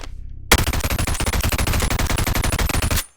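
Sustained automatic burst from an HK-style gun in the Bonelab VR game, rapid evenly spaced shots for about two and a half seconds, loud and close, ending abruptly.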